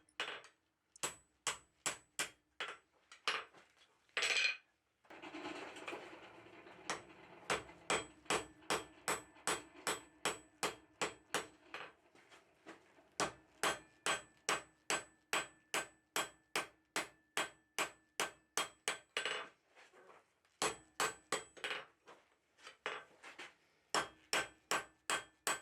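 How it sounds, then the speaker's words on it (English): A blacksmith hammers a half-inch square steel bar into tong blanks, delivering dozens of sharp, evenly spaced ringing blows in quick bursts with brief pauses between series. "Everything behind this point just gets hammered down to a thick,"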